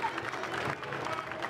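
Crowd applause and cheering at a Liberty college baseball game in Lynchburg as the starting pitcher leaves after 65 pitches, a steady broad wash of clapping and crowd noise with a voice underneath.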